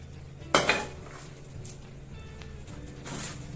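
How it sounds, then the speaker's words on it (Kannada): A large homegrown jackfruit is cut with a knife, giving one sharp, close metallic knock followed by a brief scraping rattle, then quieter faint handling noises. "ಹಲಸಿನ ಹಣ್ಣೆಲ್ಲ ನಾನೇ ಕುಯ್ತಿದ್ದೀನಿ"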